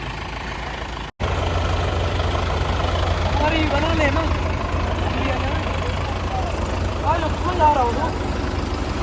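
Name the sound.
tractor engine idling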